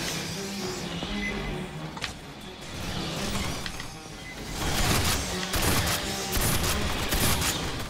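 Sustained automatic fire from a sentry gun in Aliens: Fireteam Elite rattles on, a dense continuous stream of shots that grows louder toward the end, with game effects around it.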